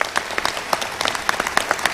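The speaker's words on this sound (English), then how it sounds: "Let's give a round of applause for the freshmen who are here today." Audience applause for freshmen at a school welcome ceremony, a short burst of scattered, distinct hand claps from a modest crowd, fairly close and without talk.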